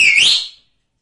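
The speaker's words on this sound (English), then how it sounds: "a high-pitched sound produced by forcing breath through a small opening between the lips or fingers" A short, high whistle blown through the lips, one sustained tone that slides upward and then cuts off after about half a second, clear and close with nothing else heard.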